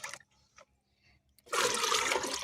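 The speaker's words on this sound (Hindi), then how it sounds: "इसके बाद इसमें 2 लीटर पानी मिलाइए" Water poured in to dilute soaked mustard cake fertilizer, a sudden close splashing gush that starts after a few soft clinks and continues steadily to the end.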